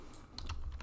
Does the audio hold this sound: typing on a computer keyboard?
yes